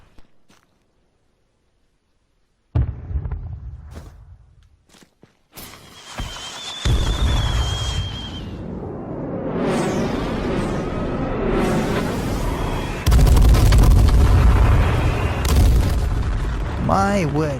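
Airstrike explosions in the H1Z1 battle game: after a near-silent start, scattered thuds build into a dense, roaring run of booms and rumbling blasts that stays loud and sustained to the end.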